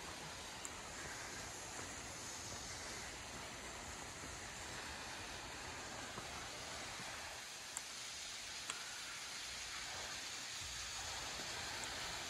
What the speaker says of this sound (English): And there it is, Cataract Falls. It's not a big waterfall, but it's still a waterfall.